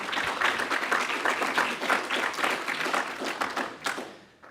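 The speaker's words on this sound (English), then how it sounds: "a big round of applause for everybody that has made it" An audience at a startup pitch competition grand final applauds the shortlisted founders, a dense burst of clapping that holds steady for several seconds and then tapers away.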